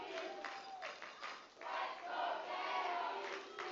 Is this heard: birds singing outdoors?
no